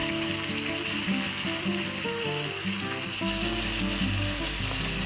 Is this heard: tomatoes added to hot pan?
yes